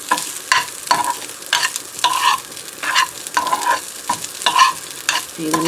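Food frying in a pan is stirred with repeated scraping strokes in an irregular rhythm over a bright, close sizzle, loud and without talk.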